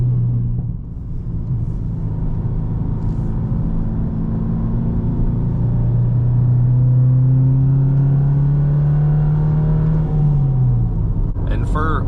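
Subaru WRX engine rumbling steadily and loud from inside the car during a downshift into second gear, pitch shifting as revs change, with a voice talking over it.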